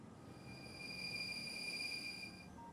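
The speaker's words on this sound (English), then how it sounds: "Okay, here comes the train." A train arriving in the video game Factorio gives a steady metallic squealing hum that swells and fades over a few seconds, with no talking.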